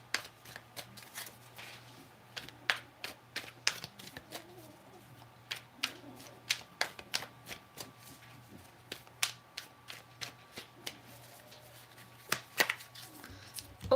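Tarot cards are shuffled for a ten-card love spread, a dense run of crisp riffling snaps and taps repeating steadily, close and fairly quiet, with no speech.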